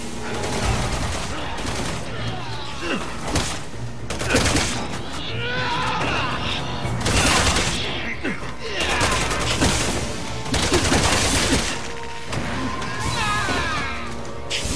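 Gunfire in the Resident Evil 6 video game: repeated bursts of shots and heavy impacts come in loud waves over a dense combat soundtrack, with voices mixed in among the action.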